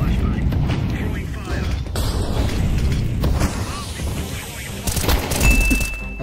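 Video game shooter gunfire crackles in dense bursts through the clip, with heavier booms and a sharp volley near the end, mixed with voices talking over the action.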